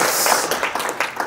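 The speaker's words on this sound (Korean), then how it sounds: "우리 임 목사님들 박수로 한번 크게 격려해 주시면" A short burst of audience clapping at a church family retreat service to encourage the pastors, fairly close with uneven individual claps.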